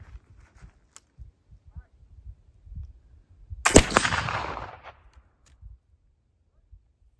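Homemade black powder fired into a hay bale, a single loud boom with a short rumbling decay, set among quiet outdoor background with faint low bumps before and after.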